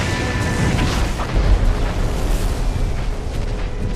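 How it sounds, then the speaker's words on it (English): Missile explosions in the video game MechWarrior 4: Vengeance, a dense, loud, continuous rumble of blasts and booms with a swell around the middle, no voices over it. "I got missiles coming in our position right now!"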